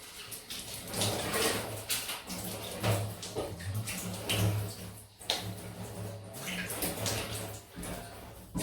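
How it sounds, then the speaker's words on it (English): Running tap water splashes steadily while shaving soap lather is rinsed from the skin, a continuous close trickle with small irregular surges and no voices. "I'll just rinse that gunk off."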